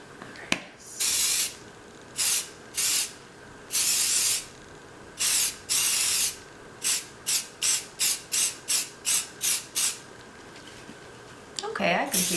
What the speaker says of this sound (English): I'm just gonna mist the top with some little spray glitter